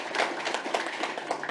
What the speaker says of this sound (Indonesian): Tepuk tangan untuk Mas Sutemas.